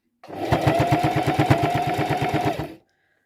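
Sewing machine stitching through a quilt-as-you-go patchwork, a fast even needle rattle running loud and close for about two and a half seconds before stopping.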